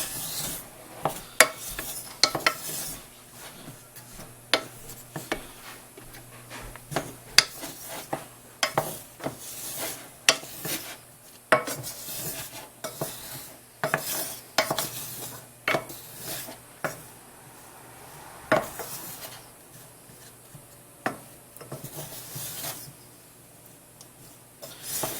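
Chocolate chips and canola oil are stirred in a pot on the heat, a long run of close scraping and rasping strokes with sharp clicks of the utensil against the pot at an irregular pace.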